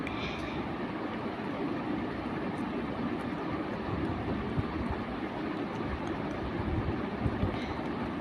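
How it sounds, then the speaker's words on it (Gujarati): A low, steady rumble of a train rolling past near Dhanera, constant and fairly loud throughout with no voices. "તમે જોઈ શકો છો આગળ ટ્રેન જઈ રહી છે"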